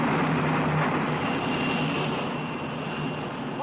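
Steady, loud airplane engine drone inside the cabin of a passenger flight, a continuous broadband roar with no breaks and no voices.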